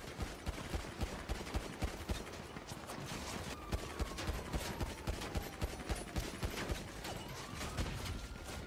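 Rapid, rhythmic gunfire bursts crackle through a roleplay video game firefight, fairly faint and continuous across the whole stretch.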